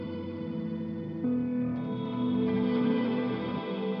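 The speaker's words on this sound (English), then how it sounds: "Now that the filtered channel is feeding the reverb, we can let tiny phrases through as desired." A filtered guitar channel runs into a reverb through a Cooper FX Signal Path Selector, giving a sustained tonal phrase that swells a little louder partway through, then trails off with a washy, echoing tail.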